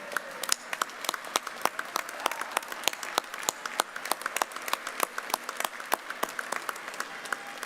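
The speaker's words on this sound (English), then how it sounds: "Graduates, help us out a little bit with a round of applause." Scattered, sparse clapping at a university commencement ceremony, individual claps distinct and fairly distant, a modest crowd keeping up an uneven patter throughout.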